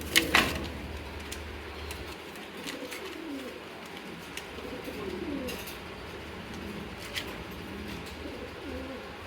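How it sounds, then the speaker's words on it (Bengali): A jet-black pair of Rajshahi Giribaz pigeons coos up close, soft repeated throaty calls over a quiet background, opened by a brief clatter and a few light knocks. "এখানে 1 জোড়া রাজশাহী গিরিবাজ দেখতে পাচ্ছেন, ফুললি জেড ব্ল্যাক"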